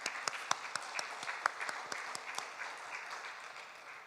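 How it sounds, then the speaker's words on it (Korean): A church congregation claps together at a Wednesday worship service, a fairly faint, scattered applause with a few sharper claps standing out, slowly thinning over about four seconds with no talking. "박수 한번 올려드리겠습니다."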